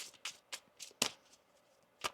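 Tarot cards being shuffled in quick, soft, papery bursts, about seven riffles spaced unevenly, close and quiet.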